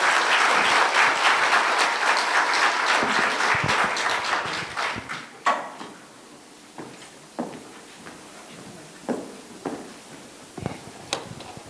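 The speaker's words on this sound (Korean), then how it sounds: "큰 박수 부탁드립니다" An audience bursts into loud, sustained applause that gradually thins out into a few scattered claps and shuffling noises.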